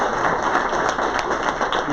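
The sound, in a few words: audience clapping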